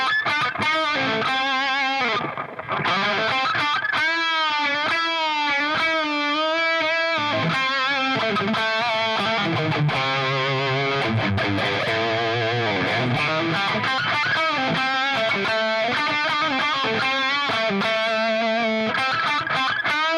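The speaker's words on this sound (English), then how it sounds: "So you get a lot more distortion on that part." An instrument played through an amplifier on its crunch setting gives a continuous, gritty, distorted tone, with sustained notes and shifting melodic lines running loud and unbroken for about twenty seconds.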